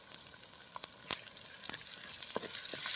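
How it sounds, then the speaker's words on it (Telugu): About three finely chopped tomatoes fry in a pan over a wood-fire stove, with a soft, close sizzle, scattered crackles and pops, and a few light stirring clicks. "టమాటా అయితే యాడ్ చేస్తున్నాను అండి, సన్నగా తరిగాను"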